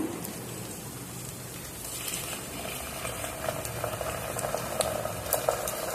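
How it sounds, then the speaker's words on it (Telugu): Ginger-garlic paste hits hot oil in a pan for drumstick dal soup, giving a steady, close, rain-like sizzle with crackling pops that grows slightly busier toward the end, no voices. "ఒక రెండు టీ స్పూన్లు అల్లం వెల్లుల్లి పేస్ట్ వేస్తున్నాను"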